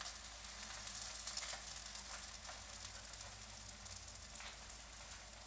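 Spam slices frying in a pan, giving a soft, continuous sizzle that stays even and faint throughout, with no talking.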